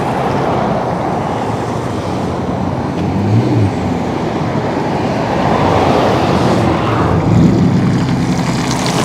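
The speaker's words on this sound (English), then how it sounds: "it is like night and day out here when you can hear the traffic going by" Road traffic rolling past outdoors in the evening as a protest crowd thins out, a steady broadband roar with two louder vehicle passes swelling around three and seven seconds.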